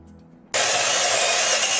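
A power drill starts a hole in a kitchen countertop while a countertop reverse osmosis system is installed, kicking in abruptly after a quiet moment and whirring loud and steady to the end.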